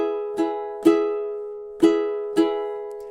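Measure 7 of a song strummed on ukulele in a miss, up, down, miss, down, up pattern. Four crisp strums ring out over sustained chords, close and clear with no talking.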